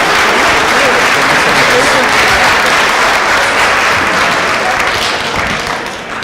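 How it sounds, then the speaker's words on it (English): Audience applause fills a hall at the 2017 Tri-Cities Youth and Justice Forum, a dense, loud, sustained wash of clapping that holds steady and tapers slightly at the end. "round of applause"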